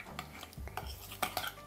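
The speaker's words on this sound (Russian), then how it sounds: "Перемешиваем." Sour cream and powdered sugar are stirred in a bowl, with a few soft, close clinks and scrapes of a utensil against the dish in quick, irregular succession.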